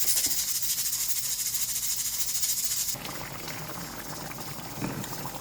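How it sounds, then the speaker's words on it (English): Curry chicken with vegetables simmering in a pot, a steady bubbling boil heard up close, louder at first and then settling into a softer, continuous simmer. "And now I'm going to leave it to simmer"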